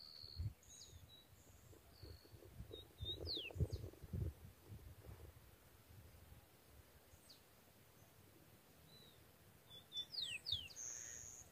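A young rufous-collared sparrow sings soft, faint whistled phrases in short bursts, distant and quiet over a low rumbling outdoor background.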